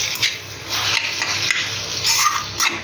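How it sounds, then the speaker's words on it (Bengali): Water spinach greens fry in a pan, giving a steady crackling sizzle with occasional scraping stir strokes, close up and continuous. "এখানে এই যে শাক ভাজাটা হচ্ছে"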